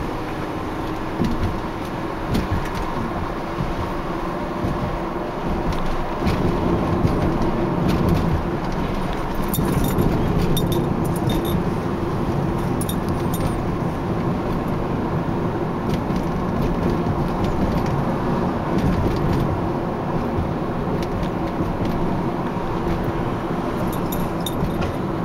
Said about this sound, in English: Traffic's a little bit on the heavy side right now, but it's moving along